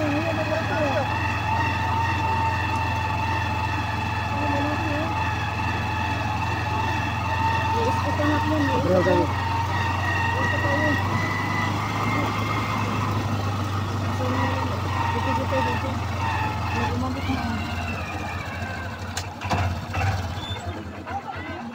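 An ambulance siren wails steadily over heavy road noise and an idling engine, rising and fading as the vehicle passes during a fun run in Lopez, Quezon.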